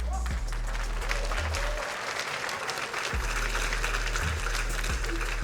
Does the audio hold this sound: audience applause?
yes